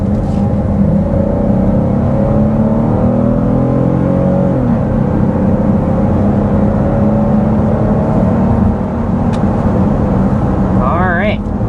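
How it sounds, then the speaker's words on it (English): A 2027 Kia Carnival minivan accelerating hard up to 60 mph, heard from inside as a loud, steady engine and road roar that rises slowly in pitch throughout. "let's go ahead and start with a hard acceleration"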